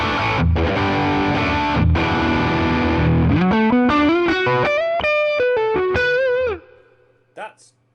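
Electric guitar played through a Kernom Ridge overdrive pedal set for a rhythm tone: a few crunchy strummed chords, then a rising run of sustained, bent distorted notes that cut off sharply, leaving a brief ringing tail.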